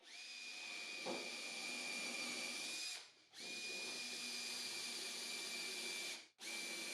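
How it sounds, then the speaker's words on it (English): A power drill with a countersink bit runs steadily with a high whine, pausing briefly twice before spinning up again, close and loud. "then use the countersink bit to drill the countersink"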